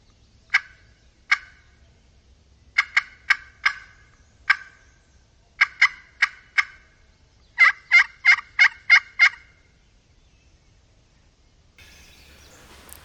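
Bursts of distant wild turkey gobbling ring out in irregular clusters, sharp and echoing against otherwise quiet surroundings, with a faint rustle near the end.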